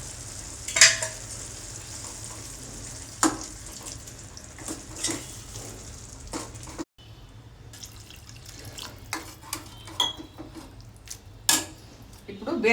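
Ridge gourd curry sizzles in a pan as yogurt is stirred in, with repeated scraping and clanks of a spoon against the pan over a steady frying hiss, heard up close.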